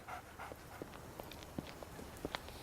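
A dog pants and walks nearby, soft padded footsteps and short huffs repeating irregularly at low volume over a quiet background.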